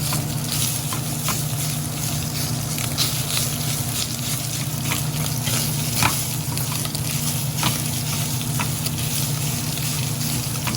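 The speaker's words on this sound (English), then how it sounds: "You want to cook the Italian sausage first" Italian sausage frying in a pan, a loud continuous sizzle and crackle with scattered pops and occasional stirring scrapes, close and steady throughout.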